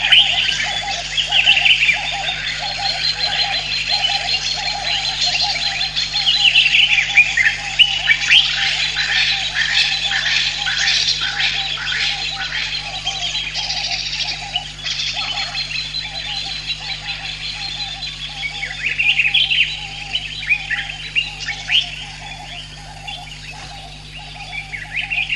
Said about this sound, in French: les cris assourdissants d'une farandole d'oiseaux nocturnes et dans le concert aigre des insectes